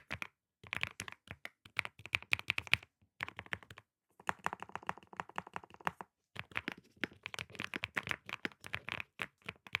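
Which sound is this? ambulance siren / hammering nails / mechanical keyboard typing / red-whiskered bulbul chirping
mechanical keyboard typing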